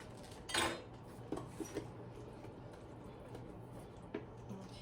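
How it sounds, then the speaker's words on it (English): Sugary jam is stirred in a pot on the stove, a spoon giving faint, scattered clinks and scrapes against the metal, quiet and close over low background noise. "so now we're going to stir this constantly until it comes to a full hard boil"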